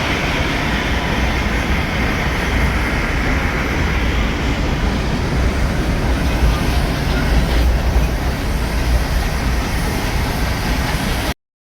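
Ooty mountain train on the hill line from Udagamandalam to Mettupalayam, heard as a steady loud rumble of rolling carriages that continues without a break.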